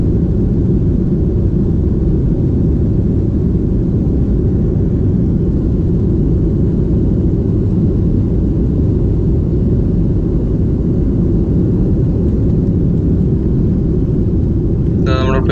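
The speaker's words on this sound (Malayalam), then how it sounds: "സ്പീഡിലാണ് ഇപ്പോൾ ഫ്ലൈറ്റ് പോകുന്നത്. ഇപ്പോൾ ഫ്ലൈറ്റ് റൺവേയിലാണ്." An Air India Express plane speeds down the runway for takeoff at Calicut airport, giving a loud, constant, dense engine roar and rumble that holds steady throughout.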